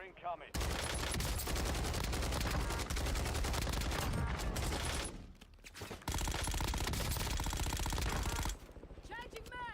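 Sustained automatic gunfire rattles almost nonstop in a Warzone match, loud and dense bursts with brief gaps near the middle and end, while game voices are heard under the shooting.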